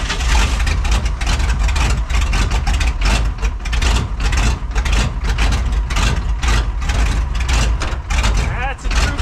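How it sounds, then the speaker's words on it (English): A Chevy K30 4x4 rollback truck engine idles steadily right after a cold start on a 37-degree morning, a loud, continuous low rumble with a voice talking over it. "That's a true cold start."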